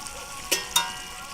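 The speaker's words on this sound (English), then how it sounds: "The bacon, it's cooking, but it's just going to take it a little while." Bacon cooks in a Dutch oven over an open fire, a steady soft sizzle with two sharp crackling pops close together.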